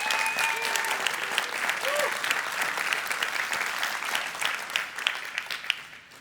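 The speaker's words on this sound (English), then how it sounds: "Round of applause for" A conference audience at a Star Atlas session applauds steadily for several seconds, a dense, even patter of many hands with faint voices underneath before it thins out.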